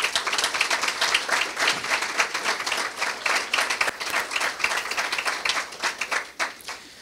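An audience at a university humanities faculty anniversary lecture gives a steady round of applause for historian Roberto Cassá, dense clapping that holds for several seconds before tapering off near the end.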